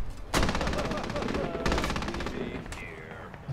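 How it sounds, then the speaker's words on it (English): Rapid bursts of automatic gunfire in a multiplayer shooter game, sharp repeated shots in two dense volleys with brief pauses, loud and close. "They're still shooting."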